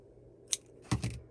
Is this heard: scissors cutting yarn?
yes